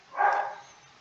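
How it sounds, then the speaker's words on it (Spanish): Dogs barking somewhere off in the distance: one short, muffled burst early on that fades into quiet background hum. "Tienen un concierto unos perros ahí."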